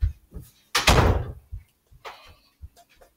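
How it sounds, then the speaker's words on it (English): A door swings shut with a broad whooshing thud, followed by softer bumps and small handling noises in an indoor room; no talking. "can you close the door?"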